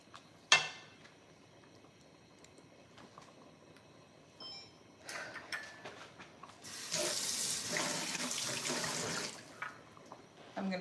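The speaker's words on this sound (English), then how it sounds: "And I rinsed my spoon off, even though my family's eating it." Kitchen sink tap runs as a spoon is rinsed under it, a sharp clink early on, then intermittent water bursts building to a louder steady gush near the end, no voices.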